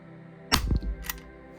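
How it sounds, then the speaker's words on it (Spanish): A single sharp pop from a replica Smith & Wesson MP9 pistol, followed a moment later by a smaller clack, in an otherwise quiet room. "Otro disparo."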